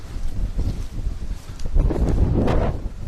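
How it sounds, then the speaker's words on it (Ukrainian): Strong gusting wind roars against the microphone, buffeting unevenly and swelling louder toward the end, with no voices. "Ух і вітер сьогодні."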